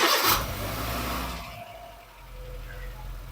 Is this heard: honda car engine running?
yes